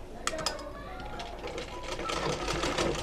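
Sewing machine stitching a ladies' pant, running in a steady close mechanical chatter with a few sharp clicks at the start; a voice speaks faintly underneath.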